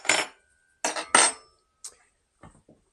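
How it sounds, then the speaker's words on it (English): Metal cutlery and kitchen utensils clink and clatter as they are pulled out and set down before cooking a bacon and eggs breakfast, several close sharp bursts in a row followed by a few fainter, softer knocks. "I know exactly what tools and utensils I need to get out."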